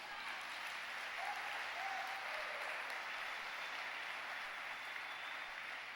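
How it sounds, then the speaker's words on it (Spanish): A church congregation applauds steadily, a dense and even wash of clapping that holds for the whole stretch, with a faint voice or tone briefly rising above it. "¿Cuánto le dan un fuerte aplauso al Señor?"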